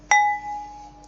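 A single bright, bell-like ding from a tapped glass sampled as a GarageBand keyboard instrument rings out and slowly decays, clear and close with a quiet background.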